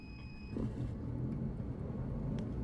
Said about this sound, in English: Now the engine is starting up.